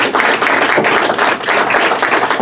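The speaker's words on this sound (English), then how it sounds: "So if you can give them a round of applause." Audience applause at the Anaheim Council District 5 candidates forum, a steady dense patter of clapping from a room of people, continuous and fairly loud with no talk.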